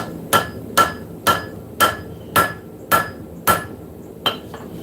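Eight sharp hammer blows ring out on hot metal hung off the edge of an anvil in a forge shop, struck at a steady, evenly spaced rhythm, close and loud with a bright metallic ring on each hit.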